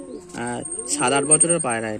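Pigeons coo in repeated low, throaty phrases close by, with Madras pigeons kept at a house, the calls rising and falling in short bursts and overlapping as several birds call at once.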